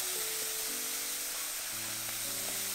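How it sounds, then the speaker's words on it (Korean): Garlic, onion and mashed tofu stir-fry in an oiled pan, giving a steady, even hiss of sizzling with faint tonal hum underneath and no speech. "마늘과 양파를 넣고 볶아주세요"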